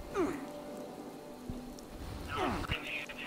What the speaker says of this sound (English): I'm all alone in the forest and it's raining.